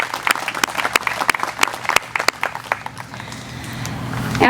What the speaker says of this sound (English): Let's give a round of applause for Piper Duck